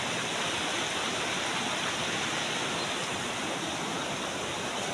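A rain-swollen, flooded river rushes past in a loud, unbroken roar of churning water, close and constant with no voices.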